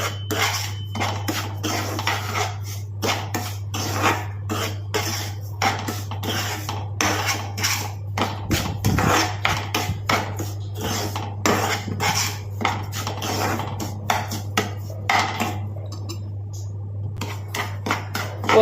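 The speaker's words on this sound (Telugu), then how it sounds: "ఇలా సిమ్లో పెట్టుకుని ఒక 5 నిమిషాలు పచ్చివాసన పోయేదాకా వేపుకోండి." A spoon scrapes and clinks steadily against a pan as Bombay rava is roasted over low heat, a continuous close rhythm of metallic stirring with no talk.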